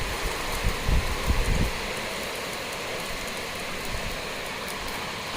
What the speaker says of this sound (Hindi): दोस्तों बड़ी ज़बरदस्त बारिश हो रही है।